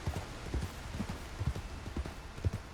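Video game horse hooves clop in a steady walking rhythm, close and clear, with no voices over them.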